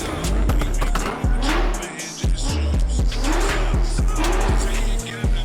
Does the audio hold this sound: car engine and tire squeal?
yes